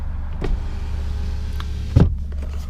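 A steady low electric motor whine of a rear power window running in a 2017 Alfa Romeo Giulia Quadrifoglio, with a soft thump near the end as it stops.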